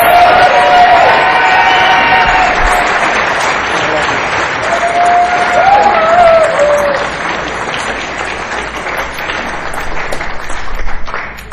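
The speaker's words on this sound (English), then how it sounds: "let us give us a round of applause for Todd S." Convention audience applauding a speaker as he is introduced: dense, sustained clapping for about eleven seconds, with a few cheers and voices rising through it before it gradually thins out.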